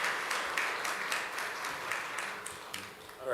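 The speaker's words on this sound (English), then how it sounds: "please clap for Pastor Moyo" A church audience claps for a pastor in a brief, moderately loud spell of applause with individual claps audible in the mix, easing slightly before picking up again at the end.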